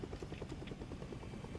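A video game helicopter's rotor thumps in a fast, even rhythm over a steady engine drone, close and continuous, with no talk.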